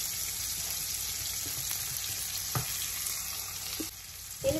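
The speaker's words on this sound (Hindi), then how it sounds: "इन वेजिटेबल्स को हम हाई फ्लेम पे फ्राई करेंगे।" Green chilies with green and red capsicum frying on high flame for chicken spaghetti, a continuous crackling sizzle with a few soft clinks of a utensil against the pan; no talking.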